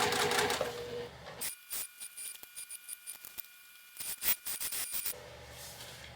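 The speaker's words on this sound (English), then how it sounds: "I will continue sewing around, just straightening as I need to, keeping the edges lined" A sewing machine stitches around the edges of a fabric pouch in quick, choppy bursts with brief pauses between runs, close up and fairly quiet, with no talking.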